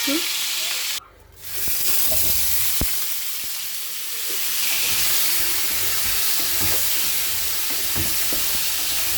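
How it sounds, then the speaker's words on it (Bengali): Stingray fish frying in a pan gives a steady, close sizzle with soft stirring scrapes and occasional pops, running continuously with no talking. "শঙ্কর মাছটা আমি ভেজে নিচ্ছি"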